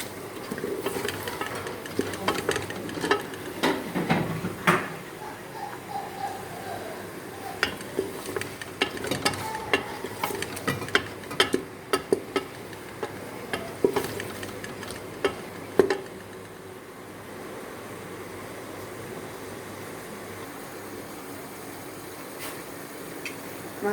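Onions sautéing lightly in a pan for a Peshawari namkeen mutton dish, a soft steady sizzle with scattered ticks and stirring scrapes, fairly close and fading slightly toward the end.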